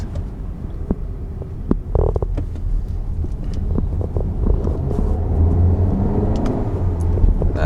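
A Volkswagen Tiguan with a 1.4 litre turbocharged petrol engine drives along, producing a steady low engine drone under heavy wind rush and road noise that gradually builds in loudness.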